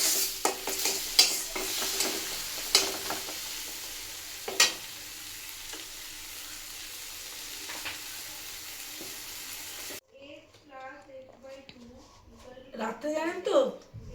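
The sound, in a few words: water added to sizzling pan while cooking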